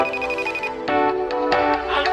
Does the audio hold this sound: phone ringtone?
yes